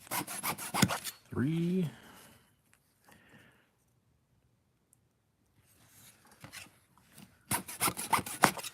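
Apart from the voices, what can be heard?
sawing wood for a miniature shoji wall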